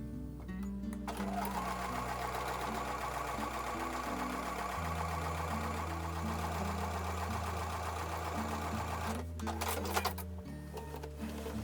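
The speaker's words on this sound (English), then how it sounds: "take it over to the sewing machine" A sewing machine runs in a fast, steady mechanical stitching rhythm, pausing briefly and changing speed near the end.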